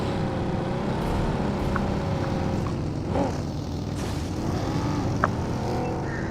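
A buggy's engine drones steadily through a Battlegrounds Mobile India tournament match, a sustained motor hum with slight swells and no voices.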